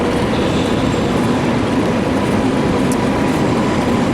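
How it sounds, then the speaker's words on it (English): A train pulls into an Italian station on the 7 o'clock service to Rome, giving a loud, steady rumble and rolling wheel noise throughout with faint squeals above. "just coming down is my train to Rome, the 7 o'clock service"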